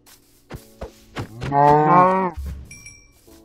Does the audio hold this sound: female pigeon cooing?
no